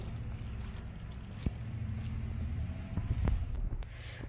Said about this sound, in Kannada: ಆಮೇಲೆ ನೀರು ಕೂಡ ಹಾಕ್ತಾ ಇದ್ದೇನೆ